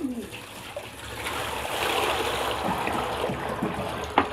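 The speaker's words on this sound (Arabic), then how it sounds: "نحط المية" Water pours and splashes steadily into a large basin meant to hold about 30 litres, filling it with a continuous rushing trickle and a brief louder splash near the end.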